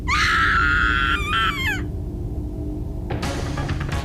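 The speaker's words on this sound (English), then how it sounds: "let out another scream and came running toward me down the stairs" Girl's high, sustained scream in the horror game Corpse Party: Book of Shadows, loud and wavering for over a second before breaking off, followed by rustling noise under a low rumbling backdrop.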